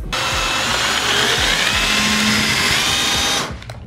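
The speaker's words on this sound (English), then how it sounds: "and then just go for it with the drill" A power drill whirs steadily at high speed for about three seconds while drilling a hole to mount a Subaru STI wing, then winds down and stops.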